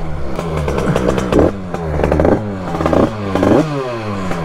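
A Yamaha DT 100cc two-stroke motorcycle warms up on a downhill ride. The engine is revved repeatedly, loud and close, its pitch climbing and falling in a series of rasping surges over a buzzing idle.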